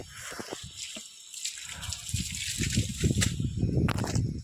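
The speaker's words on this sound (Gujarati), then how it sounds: "અત્યારે આપણે ઘડી પાણી ચાલુ કરી દીધું છે આગળના ભાગમાં" Water running in a garden after the supply is switched on, a steady splashing flow with brief tap-like bursts and gurgles, close by and growing louder toward the end, with no voices.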